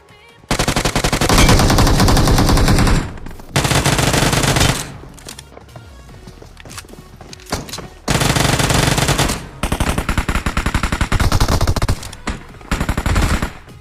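Loud, close automatic gunfire in the mobile shooter BGMI (Battlegrounds Mobile India) comes in several long rapid bursts separated by brief pauses, with softer distant shots and game effects between them.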